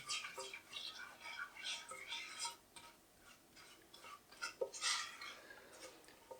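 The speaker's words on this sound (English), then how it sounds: "And we keep stirring." Brownie batter of melted chocolate and sugar stirred in a bowl, a quiet rhythmic scraping and ticking of the spoon against the sides, repeating steadily at close range with no voice over it.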